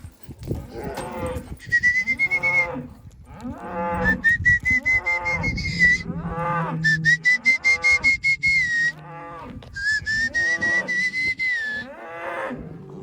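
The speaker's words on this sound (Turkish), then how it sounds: "Bakın orada da boğası var." Cattle on a farm, with a bull nearby, moo in several long, loud, drawn-out calls close by, separated by short gaps.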